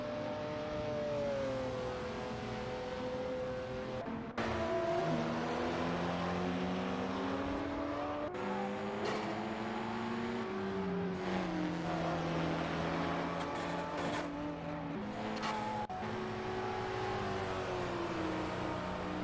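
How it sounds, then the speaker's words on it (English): Engines whine in a racing simulator game at Road Atlanta, a sustained tonal roar that climbs and drops with gear shifts, broken by brief cuts and overlapping cars, steady and fairly loud throughout. "We just witnessed some intense racing here in the simulator."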